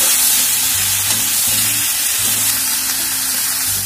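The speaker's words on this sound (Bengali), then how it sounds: "এবার নেড়ে নেবো" A Bengali vegetarian mixed vegetable curry with turmeric and sugar is stirred in a pan, giving a steady, loud frying sizzle with repeated scraping strokes throughout.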